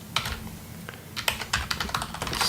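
Steady typing on a computer keyboard, quick irregular clicks of keys close by, with a few louder keystrokes and no voices.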